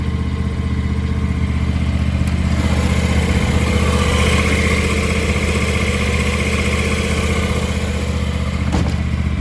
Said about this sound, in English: this really is a quiet running engine